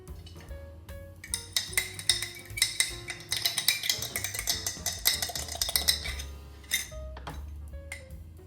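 A utensil scrapes and clinks rapidly against a bowl while a lumpy mixture is stirred, close and busy in the middle, with lighter taps at the start and end.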